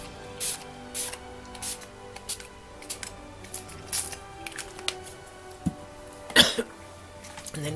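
A hand spray bottle of paint mixed into warm water gives repeated short spritzes, a dozen or so in an uneven rhythm, close and quiet, with one louder burst near the end.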